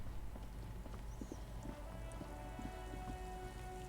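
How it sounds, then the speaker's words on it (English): Steady rain falls in the video game Disco Elysium, a continuous even hiss with faint scattered drips and low ambient game hum, no voices. "It's raining!"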